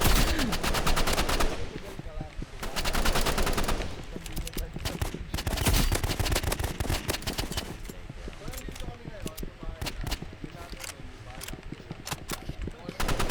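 Rapid bursts of automatic and single-shot gunfire in a video game shootout, loud and continuous for most of the stretch, with game sounds and voices mixed throughout.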